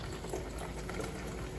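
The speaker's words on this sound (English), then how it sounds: "we're gonna add, this is just sparkling water, just carbonated water" Carbonated sparkling water being poured for a strawberry spiked limonade, a steady fizzing, bubbling hiss with a continuous liquid rush, close and fairly quiet.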